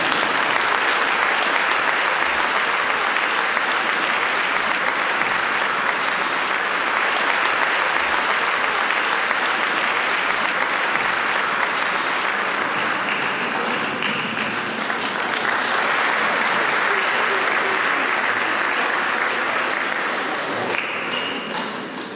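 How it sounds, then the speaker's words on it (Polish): Sustained audience applause fills a concert hall at a patriotic concert in Zielonki, a dense, steady clapping that holds loud throughout and tapers slightly at the end, with no talk over it. "No wielkie brawa, wielkie brawa."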